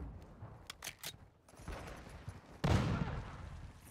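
Gunfire in a shooter video game crackles in short rapid bursts and scattered shots, moderately close, ending with a louder heavy blast that rumbles on.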